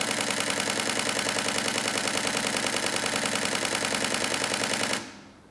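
A camera shutter fires in a rapid continuous burst during a memory card test for photography, a dense steady mechanical chatter lasting about five seconds before stopping abruptly, close and loud with no talking.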